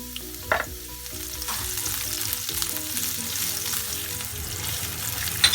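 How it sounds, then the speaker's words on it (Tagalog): Onions frying in hot cooking oil for pork bistek, a steady close sizzle with crackling bursts throughout, no talk. "Mainit na yung mantika, lalagay na natin yung ating sibuyas."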